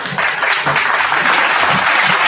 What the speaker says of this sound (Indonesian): Tepuk tangan dulu, tidak dibunuh.